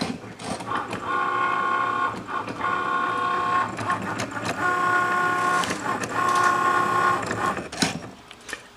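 Cutting machine slicing faux leather for bows, its motorized carriage whirring and buzzing in repeated passes of a second or so, separated by brief pauses and clicks, near and fairly loud with no talking.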